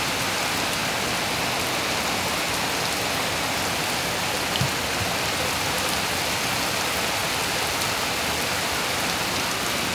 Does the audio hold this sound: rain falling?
yes